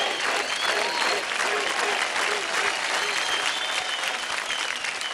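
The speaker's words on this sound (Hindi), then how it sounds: "जोरदार तालियां हो जाए बिकी के लिए।" A studio audience at a televised dance competition claps loudly and steadily after a dance performance, a dense and sustained applause close to the listener, with no talking heard.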